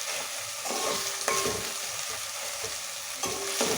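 Ginger-garlic paste sizzles steadily in a hot oiled pan while being stirred, during cooking of a potato, tomato and fenugreek curry. The frying hiss is continuous, with a few scraping stirs that rise and fall.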